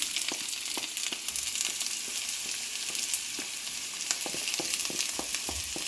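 Onion frying in a pan on a hot stove, giving a continuous, even sizzle dotted with faint clicks from stirring, close by and without speech.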